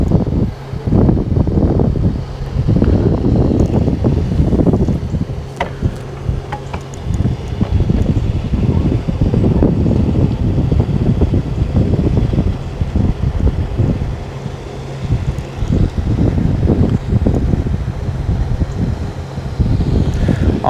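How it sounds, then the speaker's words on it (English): Strong wind buffeting the microphone outdoors on a fishing trip near Trout Hollow under cloud cover, a loud continuous roar with gusty rumbling and no voices. "with the cloud cover right now and that wind blowing"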